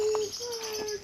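Birds call and chirp near a peacock in Jamaica, with a sustained high whistling tone and brief chirps over faint outdoor background.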